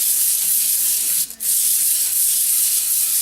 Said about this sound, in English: we're going to start with a pretty coarse grit. This is 60 grit, and we'll just lay it down and kind of do a figure 8 pattern